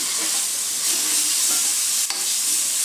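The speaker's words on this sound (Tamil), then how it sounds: "3 தக்காளி பழம் பொடியாக நறுக்கி நல்லா கைகளால் மசிச்சு வச்சதை சேர்த்து நல்லா வதக்கிக்கிறேன்" Chopped tomatoes sauté in a pan with steady sizzling and frying, a continuous bright hiss with faint stirring scrapes, close up and with no talking.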